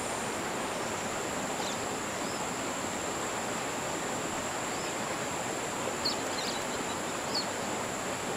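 Steady broadband roar of a waterfall on the Congo River in the fishing game Fishing Planet, continuous and fairly even throughout, with a few faint high chirps over it.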